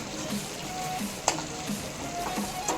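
Prawns frying in hot oil in a wok, a steady close sizzle and crackle with small repeated stirring clinks, no voices.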